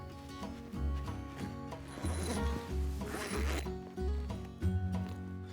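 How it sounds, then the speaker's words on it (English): The canvas door zipper of a CanvasCamp Sibley bell tent being pulled in several short, raspy strokes with pauses between them, heard close up with no one talking. "If the zip still gets stuck often, another trick is to grab the slider on both sides for an even pull."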